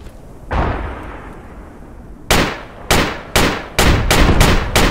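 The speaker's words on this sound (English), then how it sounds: "I hear you shooting" Gunfire in Project Reality on the Kashan Desert map: a booming shot with long echo, then a series of loud, evenly spaced rifle shots rolling across open terrain.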